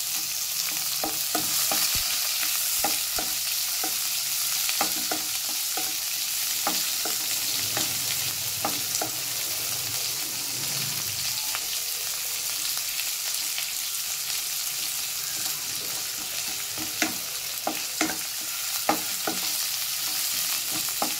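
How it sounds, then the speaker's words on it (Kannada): Onions frying steadily in a pan for sambar with chilli leaves, a constant close sizzle with occasional light stirring taps throughout, no speech. "ಈಗ ಈರುಳ್ಳಿ ಆ್ಯಡ್ ಮಾಡ್ತೀನಿ. ಸ್ವಲ್ಪ ಚೆನ್ನಾಗಿ ಫ್ರೈ ಆಗಬೇಕು ಈರುಳ್ಳಿ."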